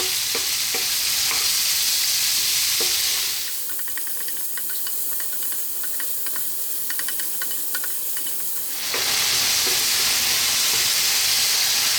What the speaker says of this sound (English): I really want to cook these tomatoes down and see if we can get some moisture out of them. Give it a stir every now and then.